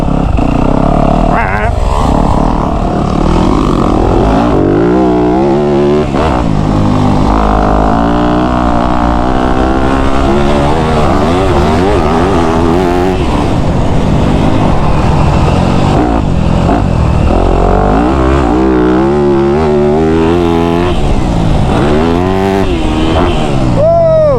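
A Yamaha YZ250F dirt bike engine runs loud and close on a dirt track, its pitch rising and falling through repeated throttle blips and revs for the whole stretch.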